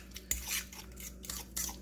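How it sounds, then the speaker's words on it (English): A fork mashes boiled egg yolks into mayonnaise, giving a few short, soft scraping and squishing strokes against a bowl, close up and quiet. "you basically take your fork and just kind of mash like this"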